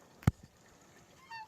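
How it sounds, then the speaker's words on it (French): A Toulouse goose lets out a single loud, sharp honk nearby, followed a second later by a fainter, higher call. "Pareil pour mes oies de Toulouse."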